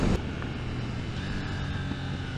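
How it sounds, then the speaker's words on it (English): A 2021 KTM Duke 890 motorcycle rolls off the throttle, its exhaust giving a steady low rumble under engine braking, with a short louder burst at the start and no distinct pops standing out. "The rumple and pops of the exhaust with the bit of the engine brake in there."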